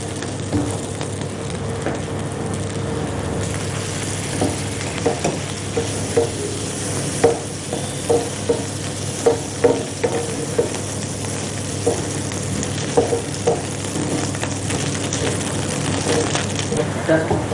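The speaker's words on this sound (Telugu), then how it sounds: "చక్కగా రోస్ట్ అవుతాయి. కట్లెట్స్ రెండు వైపులా చక్కగా కాలాయి." Cutlets frying in a pan with a little oil, giving a steady low sizzle with scattered light pops and clicks throughout, fairly close and even in level.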